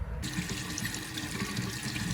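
Steady running water from a tap splashes over a bike part being rinsed clean of grease, a continuous close hiss and patter throughout with no talking.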